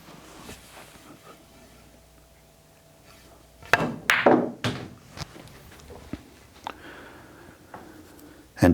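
On a pool table a cue strikes the ball and the balls knock and roll, a cluster of sharp clacks and thuds in the middle among smaller taps, with someone talking around them.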